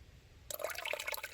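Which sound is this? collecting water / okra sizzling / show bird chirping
collecting water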